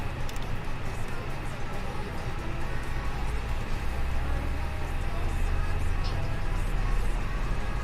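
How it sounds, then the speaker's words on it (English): Jet engine spooling up on an airliner during an inaugural flight from Cebu to Puerto Princesa, a steady broadband roar with rising low rumble that grows gradually louder, heard from inside the aircraft. "Ignition start. Engine 1 on."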